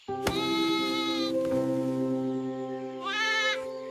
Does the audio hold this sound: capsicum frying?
no